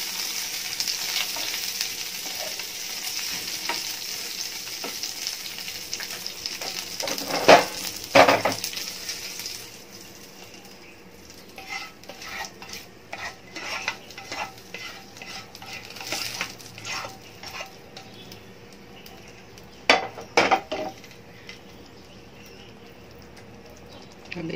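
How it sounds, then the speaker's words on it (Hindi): Spices for a spicy chicken curry fry and get stirred in a pan, with a steady sizzle that is louder in the first ten seconds and then eases off, broken by scraping and clanks of a spoon against metal. "थोड़ी फ्राई करेंगे"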